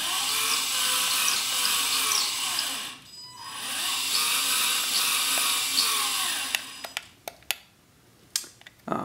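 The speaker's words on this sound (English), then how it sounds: "Holding the bottom one and going right and left spins up the grind wheels in the front." Grind wheels on the front of a PS2-controller-operated robot whine steadily at a high pitch, dip briefly, spin back up, then stop, leaving scattered ticks and clicks.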